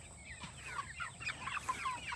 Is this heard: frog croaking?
no